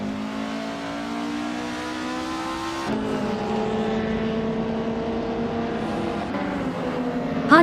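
A 1992 Honda Civic Si on a race track, engine droning steadily with harmonic revs that dip and climb as it shifts, sustained and fairly close throughout, no talk.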